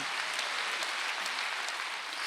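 A church congregation at a Wednesday worship service claps together in a dense, steady roar of many hands, fairly distant and even, with no voices heard over it.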